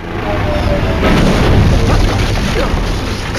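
Rocket launcher explosions in the Lego Ninjago Shadow of Ronin video game: a continuous barrage of deep, rumbling booms and bursts, loud and close, with game music and effects layered underneath.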